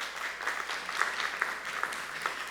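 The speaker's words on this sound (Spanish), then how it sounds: "Denle un aplauso al Señor por eso." A church congregation applauds during a Spanish-language sermon, a steady wash of clapping at moderate volume with scattered sharper claps standing out, no speech over it.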